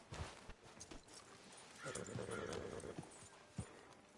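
Horse hooves clip-clop on a town street in the video game Red Dead Redemption 2, with a few irregular, fairly quiet footfalls and faint movement noises, no talking.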